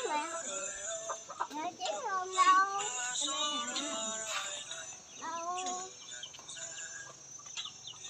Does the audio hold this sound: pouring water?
no